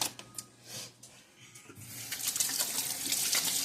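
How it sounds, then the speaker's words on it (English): Tap water running into a kitchen sink while dough is washed off hands during gluten-free pecan pie baking; a steady close splashing stream rising and growing louder after a brief quieter start. "I have dough on my hands, so let's wash my hands."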